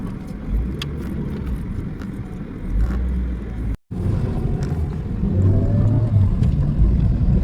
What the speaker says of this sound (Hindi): गाड़ी आ रही है यहाँ पे।